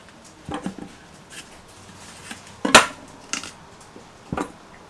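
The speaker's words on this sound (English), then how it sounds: "you're going to rinse your green bell pepper, and we are going to start chopping this" Knife chopping a rinsed, halved and seeded green bell pepper on a cutting board, a handful of sharp, uneven chops and taps spaced a second or so apart, close and fairly quiet against a soft kitchen background.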